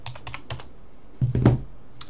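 A short burst of computer keyboard typing, several quick close keystrokes followed by a slightly heavier key press, then a final tap.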